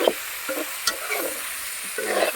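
Steady sizzling of pork stir-frying in a pan without added oil, with occasional scraping stirs and soft clinks, close and continuous with no talking.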